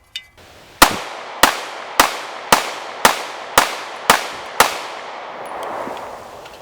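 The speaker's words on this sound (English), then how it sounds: "we spent 2 days with the 4-inch Smith & Wesson Shield down at the range" Eight sharp pistol shots from a 4-inch Smith & Wesson M&P Shield at an outdoor range, fired at a steady, fairly quick pace, each crack loud and close with a short echoing tail.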